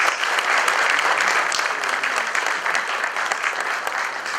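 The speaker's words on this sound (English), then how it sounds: "Shall we please give His Majesty a round of applause?" Sustained crowd applause for the Asantehene at a formal visit to a former president, dense steady clapping from a large audience lasting throughout, with no talk over it.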